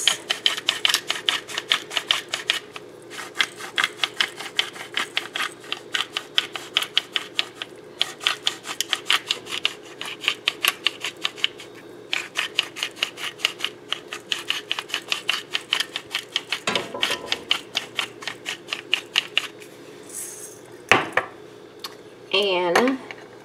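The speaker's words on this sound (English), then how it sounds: "just add some peppers to this side of the scallop" A pepper grinder cranks over scallops in a kitchen, rapid dry clicking and crunching in long steady bursts with short pauses, followed near the end by a few louder knocks and clatters.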